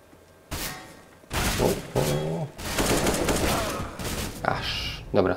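Gunfire in Counter-Strike: Global Offensive, loud bursts of rapid shots in several volleys with short gaps between them, along with game sounds and some voice.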